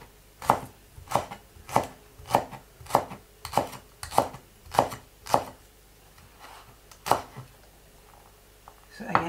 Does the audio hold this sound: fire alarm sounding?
no